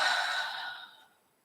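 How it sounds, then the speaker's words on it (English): A slow, audible exhale through the mouth during a yin yoga session: one close, breathy rush of air that starts strong and tapers off to silence over about a second. "Exhale through the mouth."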